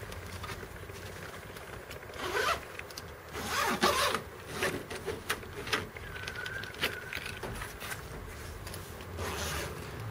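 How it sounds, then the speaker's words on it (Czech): The zipper of an NGT carp bivvy table case is pulled open in several rasping strokes of varying length, close and fairly loud, with light rubbing of fabric between pulls. "Při otevírání kufru jde opět slyšet a cítit kvalita zipu."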